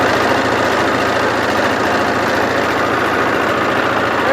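A boat engine runs steadily on a river estuary near Kushtia's Renwick embankment, a loud, continuous low drone with an even rumble and vibration throughout, no voices.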